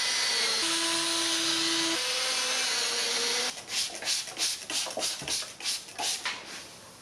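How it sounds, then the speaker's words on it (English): Wet sanding a Mazda Miata headlight lens with 500 grit: steady broadband scrubbing at first with a faint tonal hum, then a run of rhythmic back-and-forth rubbing strokes, close and fairly loud. "wet sanding with 500 grit"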